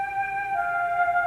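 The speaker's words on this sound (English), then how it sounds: "I also threw a flute in there" Sustained flute notes drenched in reverb from a hip-hop beat hold a clear, steady pitched tone that drifts slightly downward, playing alone for a brief moment.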